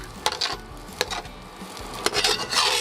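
A utensil stirs and scrapes oil-free fried rice in a non-stick pan, giving sharp intermittent scraping strokes over a soft background sizzle, close up and with no voices.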